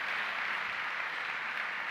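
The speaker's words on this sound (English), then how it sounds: "Let's give him a round of applause." An audience applauds at a USF Bulls sneaker event in Tampa Bay, with dense, even clapping that holds at a loud, steady level throughout.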